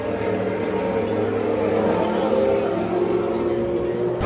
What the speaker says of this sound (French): 66 GT3 lancé pour la première fois à l'assaut du Rédillon, c'est parti.